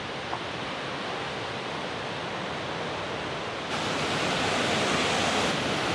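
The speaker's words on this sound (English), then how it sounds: "There's another water crossing, it looks like," Rushing mountain stream at a water crossing on a practice hike for Mount Whitney, a steady, dense roar of flowing water that swells louder partway through, with no talking.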